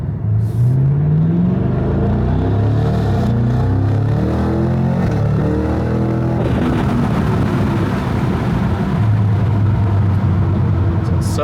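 A Cadillac CT5-V Blackwing in sport mode pulls away, its engine loud and near, rising through revs with shifts and a deep continuous rumble.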